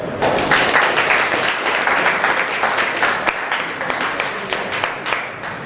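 Students at a mechanical engineering workshop applaud a design presentation, loud, close, sustained clapping from a room full of people that thins slightly toward the end.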